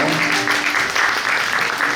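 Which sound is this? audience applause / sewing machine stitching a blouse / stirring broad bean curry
audience applause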